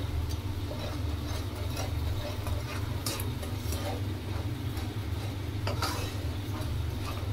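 Masala spice paste bubbles and sizzles steadily in hot oil in a pan, with a constant close crackle and occasional scraping stirs and clinks of a utensil.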